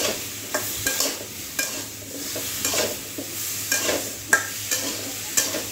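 Hilsa fish and gourd stirred and fried with spices and a little chilli powder, giving a close, steady sizzle broken by regular scraping and tossing strokes of a spatula in the pan.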